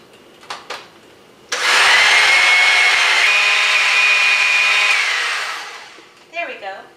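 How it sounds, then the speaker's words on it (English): A blender whirs through cream cheese batter for an Italian custard cheesecake, starting abruptly, holding a loud, steady motor roar for about three and a half seconds, then winding down, with faint clatter before and after. "We're going to blend this for 1 minute."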